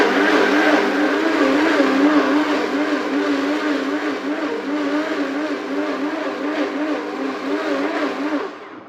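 A blender whizzes rice into batter for gluten-free rice bread, a loud, continuous whirring drone with a wavering pitch that runs nearly nine seconds before cutting off abruptly.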